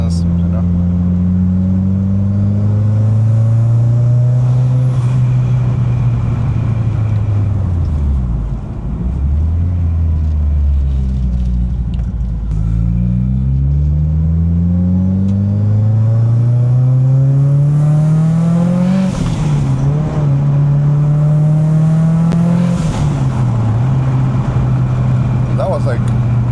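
A rebuilt Subaru engine on boost revs up and down repeatedly at half throttle. Its loud, steady drone climbs and falls in pitch, close up, for the whole stretch.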